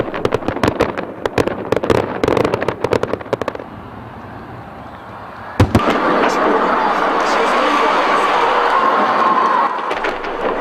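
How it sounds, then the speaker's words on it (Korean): Fireworks salute bursting over Hamhung city at night: a rapid barrage of sharp cracks and booms, then a louder thud that gives way to a sustained roar of crowd and crackling bursts. "축포는 함흥시에서도 터져올랐습니다"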